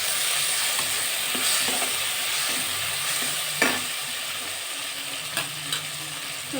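Onion and tomato frying with turmeric and ginger paste in a pan, a steady close sizzle broken by scraping stirs and a few sharp clinks of the spoon against the pan.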